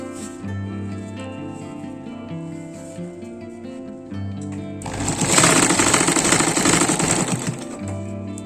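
A sewing machine stitches a jute table mat, its motor humming with steady tones before a loud, rapid stitching rattle runs for several seconds, then it settles back to a hum.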